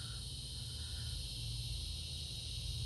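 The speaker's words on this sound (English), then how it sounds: "You can hear all the bugs." Dense, continuous insect chirring and buzzing outdoors at a Florida battlefield park with a log breastwork, a steady high shimmering drone over a low background rumble, with no voices.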